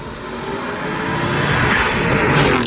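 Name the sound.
Ford Explorer ST engine with Borla Atak exhaust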